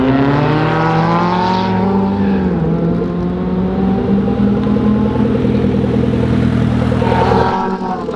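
A Suzuki Swift Turbo E10 race car laps the Kakucs-Ring track, its engine droning steadily with rising and falling revs at close range, loud and continuous, shifting pitch around gear changes before easing off near the end.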